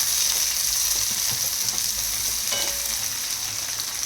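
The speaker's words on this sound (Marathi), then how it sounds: "कांदा खरपूस होईपर्यंत तळायचा, म्हणजे असा कच्चा ठेवायचा नाही." Chopped onion frying in hot oil with cumin seeds, making a steady, loud, continuous sizzle with faint stirring scrapes throughout and no voices.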